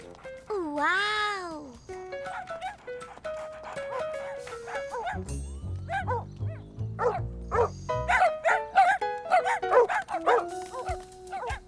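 A cartoon dog barks and yips in short bursts between lines of children's cartoon dialogue, with a whimpering whine and some background music running through the scene.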